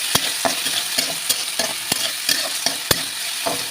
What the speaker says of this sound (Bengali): আলুটাকে ভেজে নিই